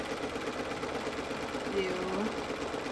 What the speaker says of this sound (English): I can just start sewing in the opposite direction